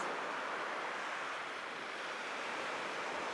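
Ocean waves on the shore along Edinburgh's coastline, a steady broadband wash of surf that holds at an even level throughout with no distinct breaks, alone with no voices.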